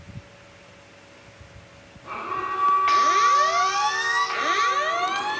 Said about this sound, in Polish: przestańcie już tutaj wyć tymi syrenami